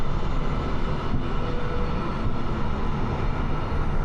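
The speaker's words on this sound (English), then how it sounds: "It's the gentle hum of a classic train journey." A steady broadband rumble fills the inside of a OUIGO train carriage on a conventional line between Brussels and Paris, a constant low hum with no voices, continuous and even throughout.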